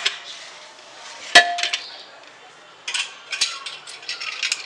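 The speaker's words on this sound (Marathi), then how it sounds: "मीठ आहे त्या मिठावरती आपण हे स्टँड ठेवणार आहोत असं।" A metal stand clanks down onto a bed of salt inside a preheated pressure cooker for baking a simple chocolate cake, one sharp metallic clang followed by a few lighter rattles and clinks nearby, with no one speaking.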